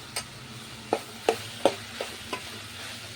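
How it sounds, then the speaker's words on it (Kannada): A tomato curry fries in a pan while a spoon stirs it in a regular rhythm of about six or seven distinct scraping clacks over a soft sizzle. The sound is close and there is no talking. "ಚಂದನತೆ ಈಗ ಮಿಕ್ಸ್ ಮಾಡ್ಕೊತೀನಿ"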